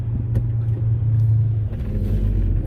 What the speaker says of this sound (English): Here's a Honda S2000.